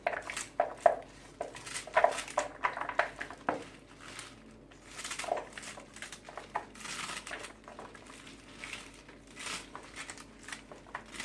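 Fresh spinach being chopped with a knife on a board in a home kitchen: a quiet series of irregular knife taps and leafy crunching, closely recorded, with no speech.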